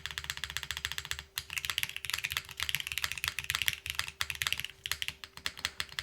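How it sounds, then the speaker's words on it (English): Rapid typing on a mechanical keyboard fitted with GMK and ABS keycaps gives close, quiet, continuous clacking in quick irregular bursts, with a brief pause partway through. "There is definitely more of a plasticky sound and higher pitch sound with the ABS from Keycap versus GMK"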